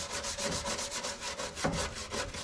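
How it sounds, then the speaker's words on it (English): A brass brush scrubs hard, fast strokes across a grimy, coated power steering pump from a Nissan 300ZX, a steady rhythmic rasping close up with no talking. "Just take a brass brush, knock all that off."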